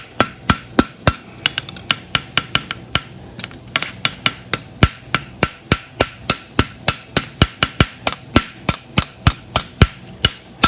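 A blacksmith hammers a deep-seated horseshoe bar shoe on an anvil, sharp ringing blows landing in a steady, quick rhythm, close and loud for the whole stretch with no talk.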